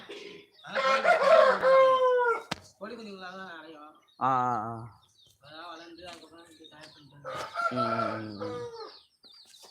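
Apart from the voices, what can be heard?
chickens and chicks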